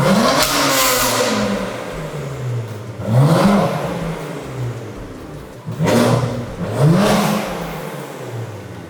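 BMW F82 M4 fitted with a Remus exhaust, stationary and revved three times: each sharp blip climbs and falls back to a burbling idle, loud and close with no speech.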